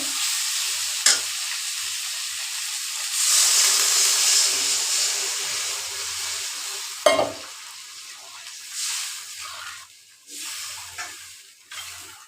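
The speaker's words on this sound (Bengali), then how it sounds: "এখন আমি জল দেবো আমার আন্দাজে" Water poured into a pan of frying vegetables for a fish curry with potato and green banana, giving a loud hissing sizzle that surges and fades, with a couple of sharp clanks of a utensil.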